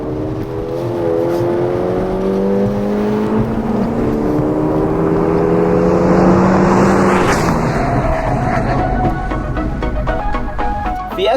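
A 200 hp Ford Fiesta ST's engine revs and shifts as it drives hard on a race track, pitch climbing and dropping through gears, loud and close throughout.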